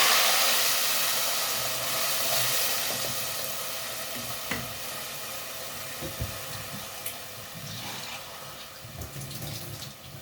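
Water poured into a hot pan of darkened caramelised sugar sauce bursts into a loud hiss that gradually fades into quieter sizzling and bubbling, with occasional clinks of a utensil near the end.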